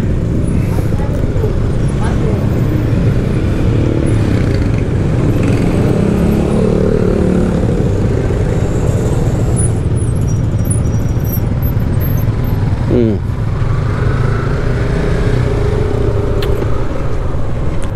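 A traffic jam of cars and motorcycles on the steep road down toward a sand sea, a loud, continuous close engine rumble with a short squeal partway through and voices talking under it.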